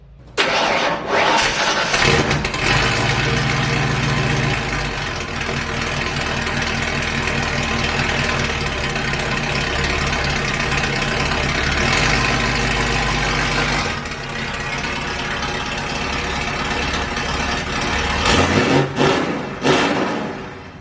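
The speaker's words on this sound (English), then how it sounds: "we gotta do a cold start on this thing" A 1982 Ford Bronco cranks and fires on a cold start, then settles into a steady, throbbing idle with a brief rev near the end; the engine is close and loud, with no voices.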